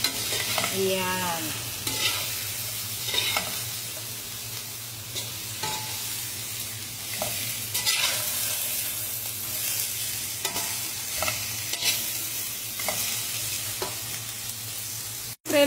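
Cabbage and carrots stirred in a frying pan, a steady sizzle under repeated scraping and clicking of a utensil against the pan, close and even, with one brief spoken word.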